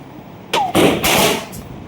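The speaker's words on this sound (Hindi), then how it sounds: "फिर हमने थोड़े से पटाखे वटाखे जलाए" Firecrackers set off during a Diwali celebration at home burst in a quick cluster of loud, sharp cracks and pops, with a brief hiss and echo between the bangs.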